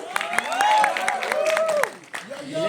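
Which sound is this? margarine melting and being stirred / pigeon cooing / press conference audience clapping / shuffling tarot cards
press conference audience clapping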